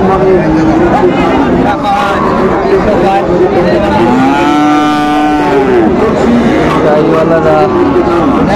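A Sahiwal bull moos with a long, drawn-out low call in the middle of a noisy cattle market crowd, with lively chatter and haggling babble throughout.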